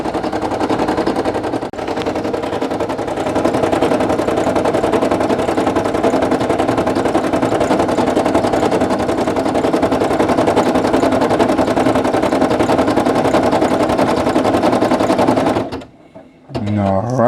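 Brother PE800 embroidery machine stitching a patch, a loud, rapid, continuous mechanical chatter that runs steadily for about fifteen seconds before cutting off abruptly.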